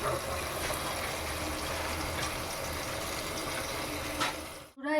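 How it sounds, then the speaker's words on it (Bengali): Tap water runs steadily into a basin as leafy greens are washed in a home kitchen, a continuous close splashing flow that cuts off abruptly at the very end. "শাকটা ধুতে থাক"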